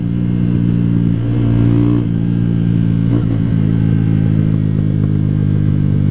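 A Honda CG 125 motorcycle engine running on ethanol runs steadily nearby on a road with a droning hum, a brief dip in revs partway through, and no talking.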